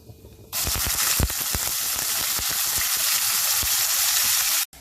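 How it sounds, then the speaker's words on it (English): Onion paste hits hot oil already fragrant with cinnamon stick, cloves and cardamom pods for a Bengali prawn malai curry, bursting into a loud, steady sizzle after a brief quiet start, with a few sharp spatters throughout. "I will now add the onion paste into this oil."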